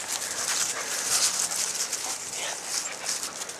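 Dog on a walk, with faint whimpers and small yips over steady hissy outdoor noise, and no clear talking.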